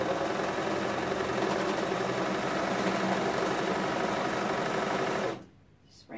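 A sewing machine runs steadily while stitching the sleeve and side seam of a color-blocked tunic, a continuous close-up whirring that stops abruptly near the end.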